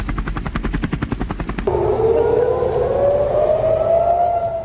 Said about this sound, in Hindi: गाजा पट्टी में आसपास लगातार हमले का सायरन बज रहा है।